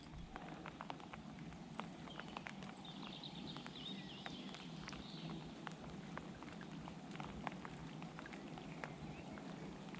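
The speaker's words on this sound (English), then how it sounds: "can't believe it's still raining." Rain falls steadily and quietly, with scattered sharp drips and taps on a surface standing out from a soft hiss.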